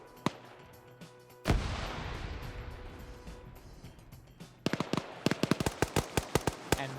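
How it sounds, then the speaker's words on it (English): Grenade explosions in a PvP shooter match: one loud blast bursts out and rumbles on for a few seconds, then a rapid string of sharp pops and bangs follows, with no talking. "We got some more grenades being thrown down."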